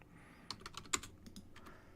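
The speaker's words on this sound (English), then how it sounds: "that's actually what I was just typing in" Keys on a computer keyboard clack in a short uneven run, near and fairly crisp, with one louder strike standing out over a quiet background.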